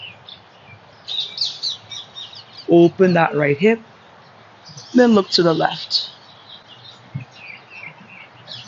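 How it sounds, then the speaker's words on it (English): Birds chirp outdoors during a power yoga session, light high tweets coming and going in short bursts, partly under a woman's calm instructional speech. "So noticing the birds."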